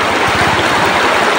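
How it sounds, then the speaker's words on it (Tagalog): A clear, shallow river in Baybay City, Leyte flows steadily nearby with a broad, continuous wash and rushing water, loud and unbroken with no talking. "Ganda ng ilog dito, oh. Sobrang linaw."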